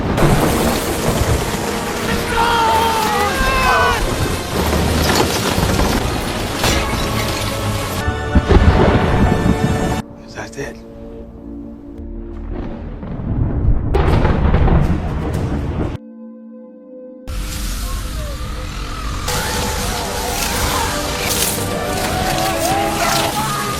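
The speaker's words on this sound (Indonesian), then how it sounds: "kota Memphis dilanda hujan es yang sangat dahsyat dan merusak banyak bangunan serta" A violent hailstorm batters Memphis with heavy pounding rain and rolling thunder, loud and continuous, dropping out abruptly a couple of times before the downpour resumes.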